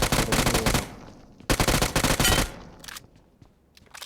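Rapid automatic gunfire from the mobile battle royale game PUBG Mobile, two loud sustained bursts of closely spaced shots separated by a short pause, then a few fainter scattered shots.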